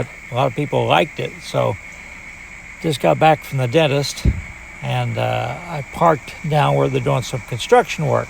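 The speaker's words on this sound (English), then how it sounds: "plus some locusts." Locusts buzz outdoors in a steady, thin high drone that runs continuously beneath a person speaking nearby, faint but constant between phrases.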